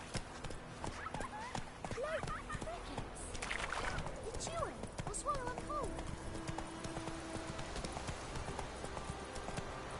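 Horse hooves clip-clop steadily in The Witcher 3 video game, mixed with game ambience while a person talks over the whole stretch.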